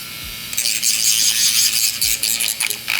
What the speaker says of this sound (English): Now to buff, I'm just going to use my e-file and the sanding band